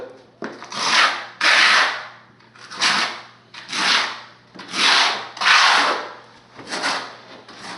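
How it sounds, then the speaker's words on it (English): A notched trowel spreads multi-purpose setting mortar over a wood subfloor for a shower pan, making rhythmic scraping strokes, about seven close, gritty sweeps with brief gaps between them. "We're going to apply a multi-purpose setting mortar prior to putting in the cement and sand bed."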